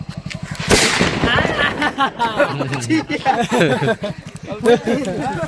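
A loud firecracker bang opens, followed by rapid crackling pops from a string of firecrackers, while people chatter and laugh nearby.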